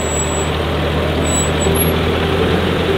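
A tractor engine idling steadily while moving a chicken coop trailer in a chicken yard, a loud, even droning hum with a faint high whine, close and unbroken.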